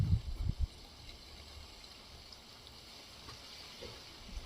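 Water gushes steadily from the 1½-inch outlet pipe of a 5 HP solar borewell pump drawing from 500 feet, a constant soft rushing wash with a few low thumps at the start.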